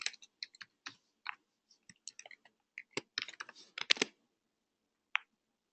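Someone types a cluster login password on a computer keyboard, producing scattered close key clicks in short uneven bursts, with a single tap after a pause at the end.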